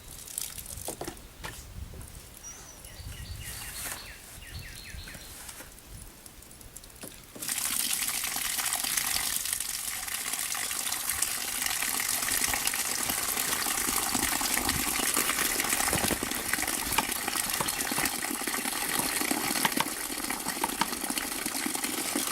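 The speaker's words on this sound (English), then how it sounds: "All we're going to do is fill up this bucket with water." A hose fills a bucket with water for clay processing: soft trickling and rustling at first, then a loud, steady gushing pour that runs on unbroken and close.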